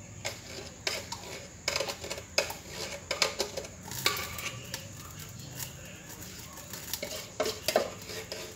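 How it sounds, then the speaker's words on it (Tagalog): A spoon stirs and scrapes inside a bowl of ice candy mixture, giving repeated clinks and scraping taps at close range in an irregular rhythm with no talking. "Mix lang natin siya"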